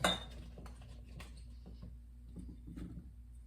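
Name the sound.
adding cucumbers and onions into a jar for pickling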